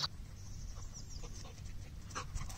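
A small dog pants steadily on a walk outside a residential building, with quick rhythmic breaths close by over soft background noise.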